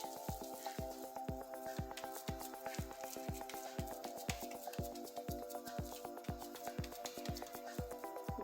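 Cabbage-roll meat patties made from stuffing fry in hot oil with a steady close sizzle and crackle, sharp pops recurring in a regular rhythm, with a faint tonal hum running beneath.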